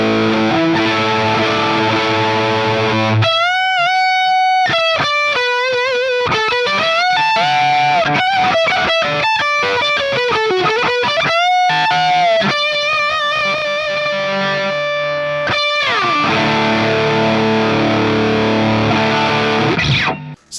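Electric guitar through a Marshall DRP-1 distortion pedal with the gain fully maxed, going for JCM800-style tones: loud, saturated chords and sustained single-note lead lines with bends, continuous and alone with no talking.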